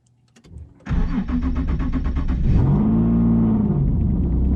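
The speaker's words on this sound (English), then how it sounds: "Let's see if this car wants to start." A single-turbo Nissan 370Z Nismo running on E85 cranks briefly on the starter, then fires and catches into a loud, rumbling idle close by.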